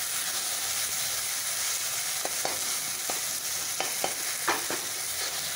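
Tomato and potato masala sizzles steadily in a pan, a close, even frying hiss broken by a few sharp scrapes and clicks of stirring, with no talking.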